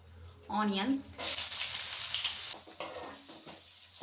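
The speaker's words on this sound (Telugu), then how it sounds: "ఆయిల్ హీట్ అయింది, జీలకర్ర వేసుకుందాం, కరివేపాకు" Cumin seeds and curry leaves hit hot oil in a pan, bursting into a loud, steady sizzle that holds for several seconds before easing slightly, with a brief stir at the start.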